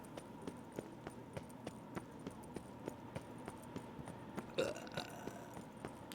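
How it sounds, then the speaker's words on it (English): A game character in The Witcher 3 lets out a loud, rasping burp near the end, heard over a steady background of rhythmic horse hoof clip-clops. "That was quite the good burp."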